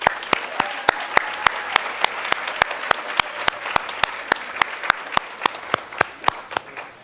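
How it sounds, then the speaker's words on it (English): A small audience in a ballroom applauds the Office of the Tenant Advocate, with sparse, sharp individual claps ringing out in an uneven rhythm over a soft wash of clapping, fairly close and moderately loud. "ask you guys to give a round of applause to the outstanding Office of the Tenant Advocate as it now exists"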